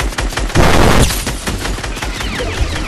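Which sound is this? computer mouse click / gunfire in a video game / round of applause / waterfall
gunfire in a video game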